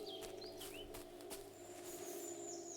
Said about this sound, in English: birds chirping.